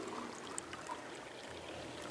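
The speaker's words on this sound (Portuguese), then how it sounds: "Agora, nessa mesma proveta, a gente vai colocar mais 50 ml de água." Water poured into a glass graduated cylinder already holding gasoline in a chemistry lab, a continuous gentle stream and trickle, close and soft, with no voices.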